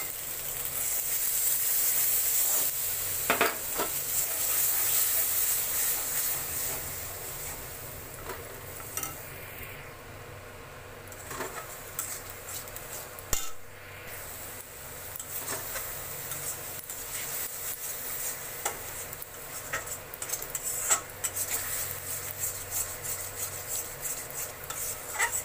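Spice paste mixed with whisked yogurt sizzles steadily in a pan for doi potol, with a spoon repeatedly scraping and clinking against the metal as it is stirred and fried. There is no talking.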